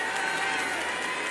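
A stadium crowd applauds and cheers, with Russian fans prominent, as a rhythmic gymnast leaves the field of play at the 2019 Summer Universiade; a continuous roar is heard beneath a commentator's voice.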